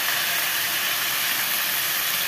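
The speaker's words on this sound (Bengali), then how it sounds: "তেলে দেখো জিরে ফোড়ন দিয়ে দিয়েছে। এবার মাছগুলো দিচ্ছে" Whole fish dropped into hot oil tempered with cumin seeds sizzle in a loud, steady, continuous hiss that fills the whole moment, close up and with no talk.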